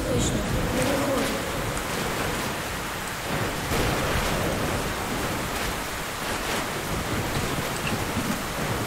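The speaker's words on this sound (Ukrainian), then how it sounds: "Тут капець буря." Stormy sea and howling wind in the game Metro: Last Light, a constant dense roar of waves and gusts filling the scene with steady loudness, a voice speaking over it now and then.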